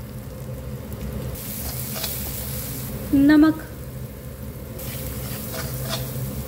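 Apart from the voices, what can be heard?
masala spices frying in pan for lauki kofta curry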